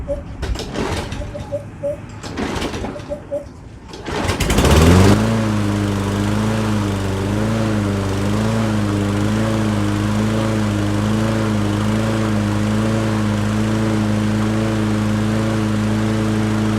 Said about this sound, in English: when I run this machine, it will run on its own